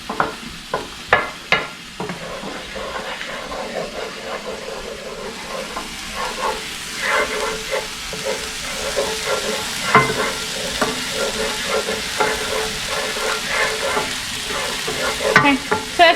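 Something melts down with a steady sizzle in a pan for a crawfish and shrimp cream sauce, with sharp utensil clicks and scrapes at the start, then continuous frying hiss and occasional stirring knocks, with no voice.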